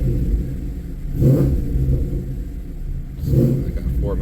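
Car engine idling with the throttle worked twice, rising into two short revs over a steady low rumble, with a voice talking over parts of it.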